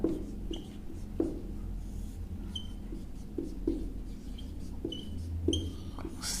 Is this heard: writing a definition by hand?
yes